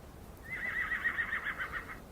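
A single horse's long whinny rings out, clear and moderately loud over a quiet background, a drawn-out neigh lasting over a second.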